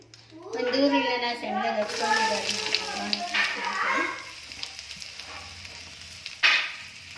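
Butter sizzling in a pan while making crispy chicken, a steady frying hiss close by with someone talking over it and a brief clatter near the end.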